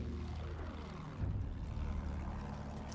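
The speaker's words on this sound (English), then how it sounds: "they have a plane after me" An enemy airplane in Battlefield 1 drones with a steady propeller engine roar that swells slightly partway through, continuous and fairly loud with no talking.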